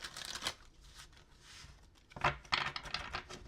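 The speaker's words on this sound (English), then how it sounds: "Okay, one more shuffle." Tarot cards are shuffled by hand in quiet, soft riffling bursts with a short pause between them, close and fairly faint, with no speech over them.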